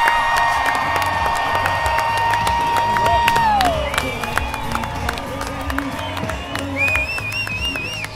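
A rodeo arena crowd roars and cheers continuously with scattered clapping, shouts and a few whistle-like tones rising over a dense, steady wall of noise.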